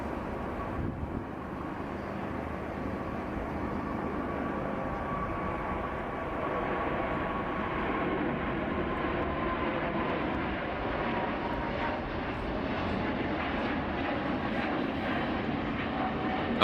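A long-haul airliner departs in a flight simulator, its jet engines roaring as a continuous broad rumble at steady loudness throughout, with no talking.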